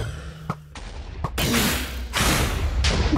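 Wither boss in Minecraft firing explosive skulls, heard as a couple of sharp thumps followed by loud, sustained crackling blasts that fill most of the moment.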